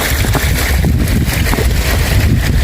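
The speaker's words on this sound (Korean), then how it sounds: "돌다리를 건넙니다 아 물소리는 좋은데" A mountain stream runs beneath a stone bridge on a forest trail near Geumjeongsan fortress, a loud, steady, close rushing of water with no voices.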